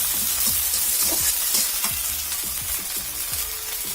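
Ground spice pastes sizzle steadily in a hot pan while a utensil scrapes and stirs in repeated strokes, close and fairly loud with no talking.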